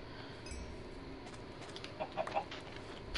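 A Minecraft chicken clucking in a survival game, a few short soft clucks clustered near the end over a quiet steady background.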